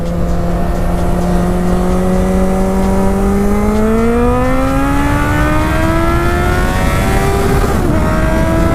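A Suzuki GSX650F motorcycle pulls up a hill in second gear, its engine droning steadily and rising in pitch as it accelerates, close and loud with wind rush and no talking.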